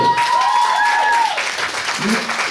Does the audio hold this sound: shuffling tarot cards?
no